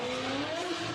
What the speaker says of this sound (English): Now he's revving up.